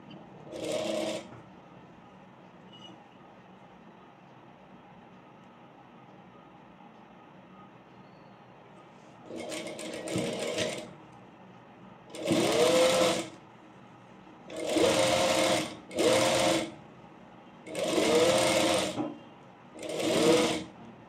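An electric sewing machine stitches a pleated petticoat in about seven separate runs, each a second or so of loud whirring rattle, with quiet gaps between.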